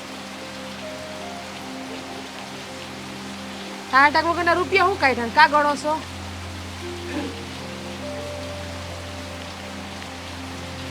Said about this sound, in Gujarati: હવે તો આ વરસાદ બંધ થાય ને તો સારું છે.